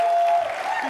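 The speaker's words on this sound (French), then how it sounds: "Applaudissez encore pour l'homme vert" A TV studio audience applauds a guest, a brief, dense wash of clapping with a sustained tone running through it, loud and close.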